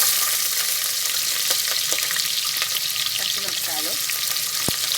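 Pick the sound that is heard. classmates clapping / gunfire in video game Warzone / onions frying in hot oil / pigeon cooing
onions frying in hot oil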